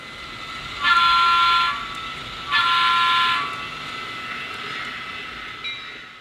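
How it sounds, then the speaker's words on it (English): An N scale DCC model train on a layout sounds two long, loud horn blasts in a row, followed by a faint short toot over a quiet background. "Train 306 is coming in."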